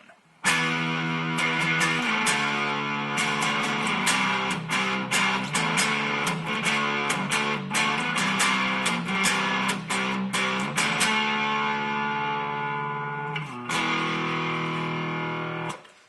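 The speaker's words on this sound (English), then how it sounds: "the distortion is very similar to the overdrive, except it just adds a lot more total distortion" An electric guitar played through the distortion of a T-Rex Engineering Magnus multi-effects pedal, all dials at noon, with chugging chords and rapid picked notes, then a sustained ringing chord at the end.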